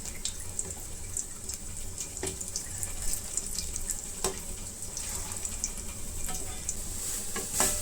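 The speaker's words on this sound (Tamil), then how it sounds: "திருப்பி போட்டு 2 சைடுமே நல்லா பொன்னிறம் வர வரைக்கும் நல்லா வறுத்து எடுத்துக்கலாம்." Mutton kofta balls frying in oil, turned to brown on both sides, giving a continuous dense sizzle with scattered pops and crackles, steady and close with no voices.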